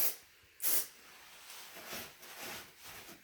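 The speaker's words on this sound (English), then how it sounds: "I'm going to spray a little bit on the top hinge. Spray a little bit up there." Lubricant sprayed onto a door hinge from a can: one sharp, loud hiss burst, followed by softer short sprays and rustling, close and without speech.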